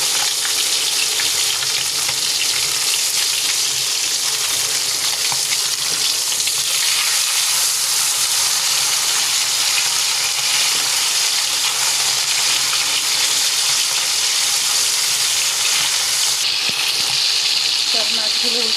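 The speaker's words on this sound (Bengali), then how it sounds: "মাছ এক পাশ ভাজা হয়ে গেছে, এবার উল্টে দিব।" Bata fish frying in oil in a pan gives a loud, steady, close sizzle that hisses evenly throughout with no break, with a brief shift in the crackle near the end.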